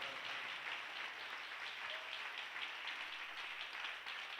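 A church congregation claps for the Lord in a long, even wash of applause, dense and steady but fairly distant and soft, with no voices over it.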